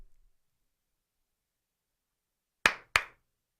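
Two sharp hand claps in quick succession, close and crisp, after near silence, marking the start of a radio show.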